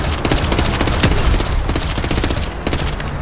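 Loud, rapid gunfire in GTA V, a stream of sharp automatic shots with a few stronger individual cracks, heard up close with no talk.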